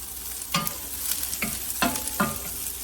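Sliced garlic, three small cloves, sizzles in a hot pan for a chickpea curry, a steady frying hiss broken by several sharp bursts of crackle as the slices are stirred.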